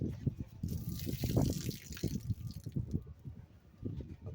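Water draining and dripping from greenhouse seed flats, a wet trickling with scattered drips and splashes, close and fairly quiet, with no talk.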